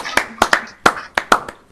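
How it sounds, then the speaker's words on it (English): Sharp, uneven bursts of hand clapping from a small crowd applauding a player at a live poker tournament final, about seven claps spread over under two seconds, close and fairly loud. "big round of applause"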